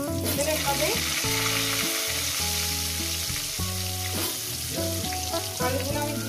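Potatoes sizzle and spatter steadily in hot oil for a chicken curry, a continuous close frying hiss with light stirring, no talking.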